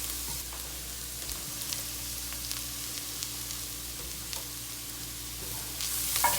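Garlic sizzles in a hot pan while cooking a chickpea curry, a steady, soft frying crackle with faint stirring scrapes and a low background hum, no voices.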